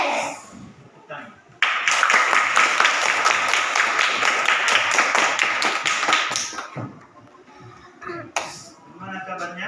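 Children in a fourth-grade class clap together in a fast, even rhythm for about five seconds, loud and close, with an adult voice speaking before and after the burst.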